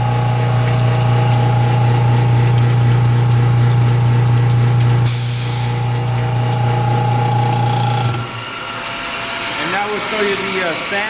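A water pump on a Reichmann ski tuning wet sander-grinder hums loudly and steadily while recirculating water into the grinding machine, then cuts out near the end and leaves quieter mechanical clatter.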